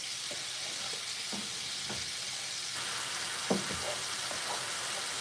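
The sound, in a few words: shrimp fried rice frying in a pan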